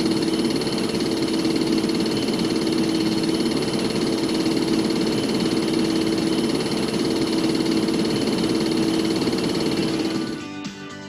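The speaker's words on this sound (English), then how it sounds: "the variable speed compressor may produce a discharge pulsation while running at low RPM" A Trane/American Standard variable speed compressor runs at low RPM with a steady, loud, tonal droning hum and discharge pulsation, winding down in the final second.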